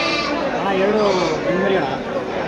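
Young lambs on a sheep farm bleat in wavering cries, close and clear, with people talking alongside them.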